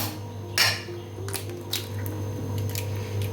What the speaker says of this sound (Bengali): চারটে ডিম এইভাবে আমি ফাটিয়ে এর মধ্যে দিয়ে দেব